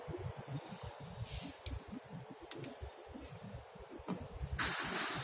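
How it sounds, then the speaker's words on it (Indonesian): A car's starter motor cranks when the ignition key is turned, a quiet, rapid, uneven low churning that carries on for several seconds with brief hissing bursts. "Dinamo starter harus berputar ketika kunci kontak kita putar."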